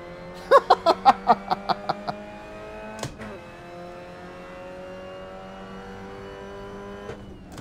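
An MX-5 Cup race car in the Assetto Corsa racing game gives a quick series of sharp engine blips at the start, then settles into a steady, moderate engine drone with a couple of brief knocks along the way.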